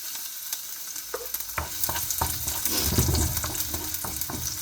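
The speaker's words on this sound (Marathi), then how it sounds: "ओके, तेल तापलं आहे, त्याच्यात लसूण घालते." Garlic dropped into hot oil in a pan over medium gas, frying for a Kelfulachi bhaji with black peas, gives a steady close sizzle with sharp stirring clicks and scrapes and a louder crackling surge midway, with no talk.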